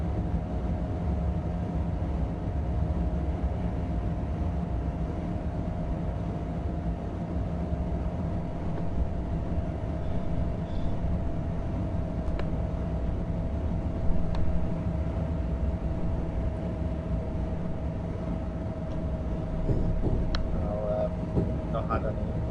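An electric passenger train on the Northeast Corridor slows in a train simulator game, a steady low rumble with a faint constant hum and occasional light clicks, under a voice talking.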